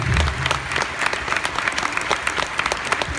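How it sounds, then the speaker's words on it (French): A concert crowd at the Zénith de Paris applauds loudly in a large hall, dense continuous clapping with a brief low sound at the start. "j'aimerais qu'on les applaudisse très fort"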